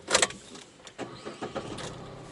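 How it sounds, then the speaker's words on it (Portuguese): A Kia Picanto being started for a test drive, with a short cranking burst followed by the engine catching and settling into a low, uneven idle with a few clunks, heard close up. "Vamos dar uma voltinha no carro. Vamos testar ele"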